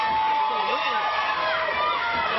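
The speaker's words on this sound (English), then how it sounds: "The crowd really getting behind Jimmy Freeman." Wrestling crowd at a live match cheering for Jimmy Freeman, a steady dense roar of voices that holds throughout without breaks.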